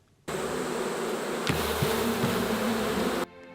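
Bees buzzing at a hive on a Ugandan bee farm, a dense continuous hum that starts and cuts off abruptly, close and steady with no talking.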